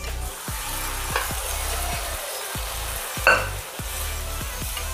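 Chickpeas frying in a pan with sautéed garlic and ginger, a steady close sizzle with repeated scraping stirs and one sharper clatter midway, no voices.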